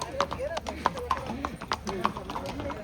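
Horse hooves clip-clop in a quick, uneven series of sharp knocks on a road in Matheran, with people talking nearby throughout.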